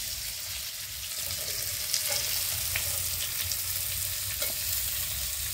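Chopped vegetables and lightly fried onion with curry leaves sizzle in oil for chow mein, a steady close crackling hiss with occasional stirring clinks and no talk.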